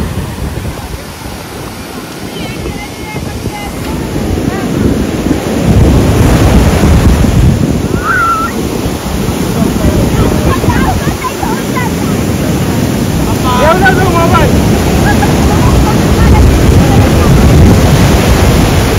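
Foamy high-tide waves roll and break loudly on Devgad beach, a sustained roar of surf that swells and recedes under gusty wind noise, with voices talking in the background.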